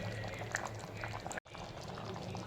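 Water simmers and boils down in a cooking pot of chicken pulao, a steady bubbling hiss that runs without a break apart from one brief gap.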